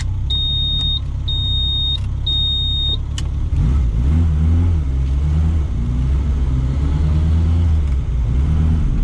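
A three-wheeler car engine rumbles steadily while driving and rises in revs partway through, with a few short electronic indicator beeps near the start. No one speaks.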